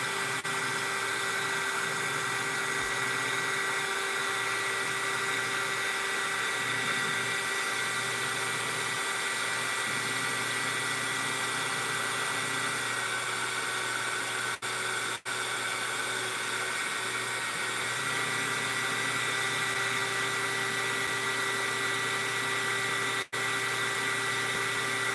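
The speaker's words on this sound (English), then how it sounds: "We're going to be doing some heat gunning for a while." A heat gun melting a plastic blob on a 3D printer, a constant steady whine and blowing hum that runs unbroken throughout, close and even, with a couple of faint clicks.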